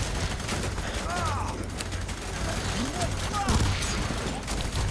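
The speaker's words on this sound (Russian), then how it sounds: "Блин, она очереди стреляет, эта пушка." Bursts of gunfire from a weapon in the shooter game F.E.A.R. 3 crackle among mechanical clanks and creaks at moderate level, while someone talks over the action.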